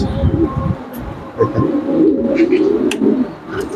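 Pigeons cooing at a pigeon shop in Uttarkhan, Uttara, Dhaka, soft, low, repeated coos from several nearby birds over a steady background murmur, with a few faint higher chirps.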